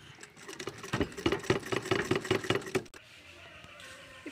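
A sewing machine runs close up while stitching a round cloth pouch, with a rapid, even mechanical knocking of the needle for a few seconds before it stops, leaving a quiet room.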